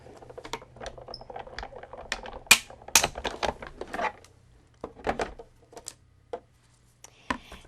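A die-cutting machine cranks stacked plates through, giving a series of irregular clicks, clacks and rattling mechanical knocks, close and moderately loud with brief pauses.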